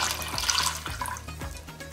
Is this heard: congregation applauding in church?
no